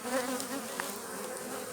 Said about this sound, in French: il y a une abeille